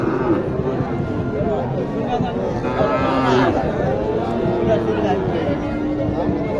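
Sahiwal bull calves at a busy village cattle market moo in long, low calls, with a steady hubbub of crowd chatter underneath and voices talking nearby.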